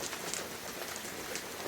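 Rain falling outdoors at a nature reserve, a steady soft hiss of drops pattering around, faint and continuous with no other sounds standing out.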